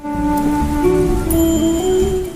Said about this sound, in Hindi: चल तू अंदर चल, बारिश हो रही है।